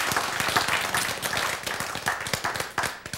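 A lecture audience claps in a burst of scattered, overlapping hand claps that carry on steadily for a few seconds, fairly loud and close with no talk over them.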